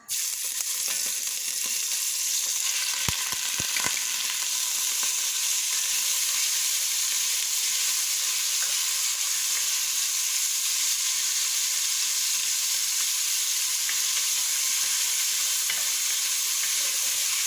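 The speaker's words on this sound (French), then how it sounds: "nous allons faire revenir nos crevettes, voilà, dans de l'huile chaude." Shrimp frying in hot oil give a steady, loud sizzle that runs without a break, with a few brief utensil clicks near the start. No one speaks.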